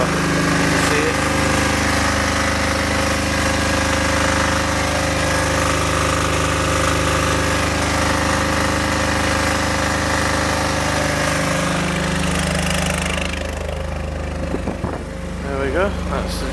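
A Hyundai DHY8000SELR silenced long-run diesel generator running with its lid off, a loud, steady, close droning hum that holds constant before easing slightly near the end, with some brief rustling and handling noise.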